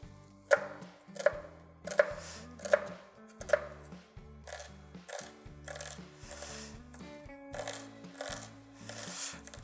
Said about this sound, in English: we're going to cut off the edge of the shallot. I like to cut it in half, so I'm working with a flat surface.